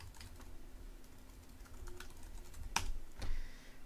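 Soft keystrokes on a computer keyboard as a password is typed, a few faint, quick clicks over a low hum, with one sharper tap near the end.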